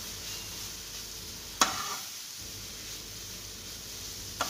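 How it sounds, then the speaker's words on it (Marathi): Grated beetroot roasts in ghee in a pan with a soft, even hiss, interrupted by two sharp spoon knocks against the pan. "बीटरूटचे किस आपण त्या तुपात टाकून हळूवारपणे खाली वरी करून घ्यायचं आहे"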